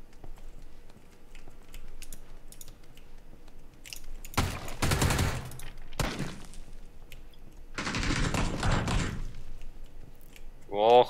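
Gunfire in the video game PUBG comes as two dense bursts of rapid shots, loud and close, with quieter clicks and game sounds between them and a short rising tone at the end.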